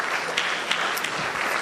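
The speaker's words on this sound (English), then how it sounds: "let's give Anna a round of applause." An audience at a community dinner applauds a congresswoman, a continuous broadband patter of many hands clapping at a steady, moderate level with no voices over it.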